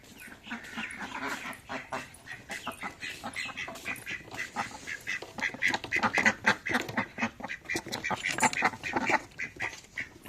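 Ducks quacking over and over in a foggy village setting, a busy, overlapping flock close by with dense, irregular calls filling the whole stretch and no talk.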